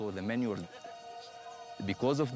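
Goats and sheep bleat in the Omani mountains: two wavering, nasal bleats come close together at the start and another follows near the end, with a steady tone held between them.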